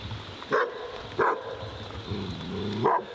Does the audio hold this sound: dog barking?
yes